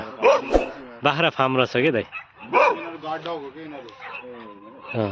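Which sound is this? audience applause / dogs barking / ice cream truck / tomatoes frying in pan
dogs barking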